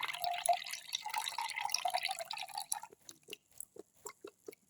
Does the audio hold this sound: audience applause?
no